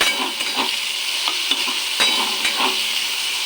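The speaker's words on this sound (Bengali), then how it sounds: "তারপরে ফোড়ন দেবো আদা পাঁচফোড়ন রাঁধুনি শুকনো লঙ্কা তেজপাতা এসব দিয়ে ফোড়ন" Ginger, panch phoron, radhuni, dry chilli and bay leaf crackle in hot oil with a loud, continuous, close sizzle, with light stirring taps throughout.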